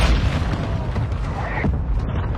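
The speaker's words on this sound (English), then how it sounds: "Our mortar strike is inbound." Mortar strike explosions in a video game, a continuous heavy booming rumble with deep low-end blasts rolling close together over a couple of seconds, with no voices.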